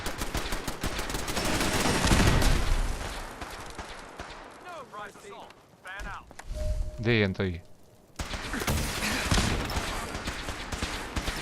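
Bursts of rapid gunfire in the video game Fallout 4 rattle loudly, broken by a short lull where a voice speaks, then the shooting resumes in dense volleys.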